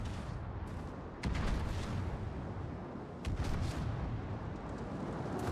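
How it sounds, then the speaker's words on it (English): Warship gun salvos firing in World of Warships, a KOTS Trident Trials grand final naval battle: a steady rumbling roar with two louder booming volleys, one after about a second and another past three seconds, no speech. "He fires the first one, and then he adjusts his aim so that his second and third salvos have a better chance of hitting their target."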